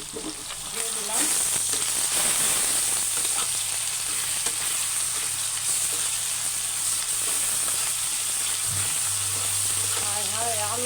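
Onions frying in oil with ginger, garlic, salt, turmeric, cumin and coriander paste for chicken kosha mangsho, a loud continuous sizzle and hiss close up with occasional stirring, no speech.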